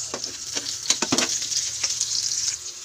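Onion and garlic fry in oil in a pan for adobong puti with pork liempo, a steady close hiss and sizzle broken by a few sharp pops and stirring scrapes.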